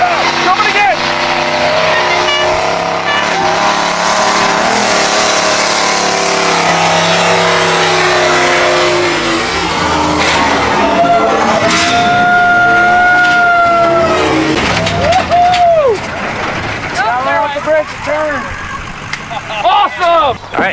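An LS-powered Lambo-style custom build runs and drives at a Gambler 500 car show, its loud V8 droning and revving steadily, with tire chirps and squeals near the end and people talking over it.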